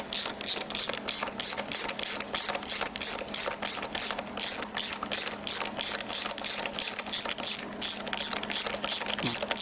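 A Harbor Freight puller presses the crank pulley off a Toyota 3S-GTE engine during teardown, producing a continuous, close, rapid ratcheting clatter with steady mechanical clicking throughout.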